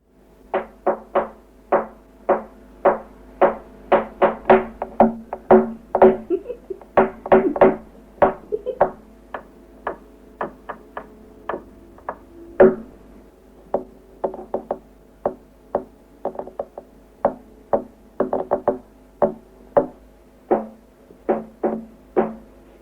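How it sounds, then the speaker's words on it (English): Recorded knocking raps from the Thun poltergeist case: a long series of sharp wooden knocks in irregular clusters and runs, some rapid and bunched, others spaced out, loud and close against near silence. "You can hear the changes as the knocks move around"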